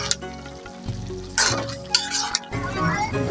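A spoon stirs a thick dried fish and vegetable curry in a pot, with scraping, soft sizzling and a few sharp clinks against the metal, close by and moderately loud.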